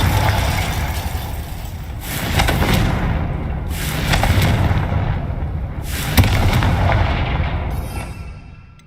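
Confringo fire spell blasts in the video game Hogwarts Legacy: several booming, crackling bursts roughly every two seconds, each swelling and fading over a rumbling background, loud and fairly close.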